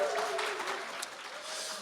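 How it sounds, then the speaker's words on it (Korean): Audience applause at a regional community project presentation, a fairly faint, even wash of clapping lasting a couple of seconds with no voices over it. "박수 한번 더 세게 한번 쳐주시면 안 될까요?"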